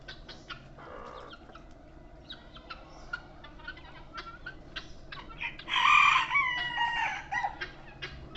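Hens cluck steadily in the background on a farm while a rooster crows loudly partway through, close by, with scattered bird calls around.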